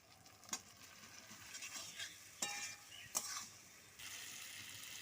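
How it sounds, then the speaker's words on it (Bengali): Pointed gourd, potato and prawns being stir-fried in spice paste: a faint, steady sizzle broken by a few sharp scraping strokes of a spatula against the pan, with no talking. "এবার আমি পটল, আলু, চিংড়িটা দিয়ে দিচ্ছি। দিয়ে আরো কিছুক্ষণ আমি কষাবো।"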